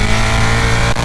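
A Ducati Monster motorcycle on the Interlagos circuit, fitted with Pirelli Diablo Rosso 4 Corsa tyres, roars loud and close with a steady sustained engine note and a brief sharp change near the end, with no talk.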